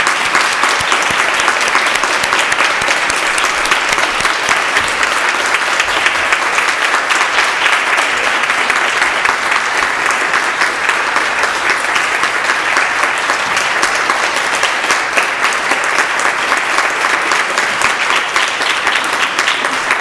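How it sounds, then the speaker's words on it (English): A parish meeting audience applauding steadily, a dense and even round of clapping that fills the room for a long stretch. "applause"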